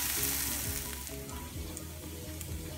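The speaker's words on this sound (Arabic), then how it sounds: "وغادي نحمر شويه ديال الدقيق" Flour frying in a pan for a stuffed spleen dish sizzles steadily, a dense continuous crackle with faint low stirring scrapes underneath.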